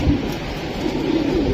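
Giribaj pigeons in a home loft coo in low, soft, continuous murmurs, several birds overlapping close by without a break.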